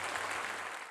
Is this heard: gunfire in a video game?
no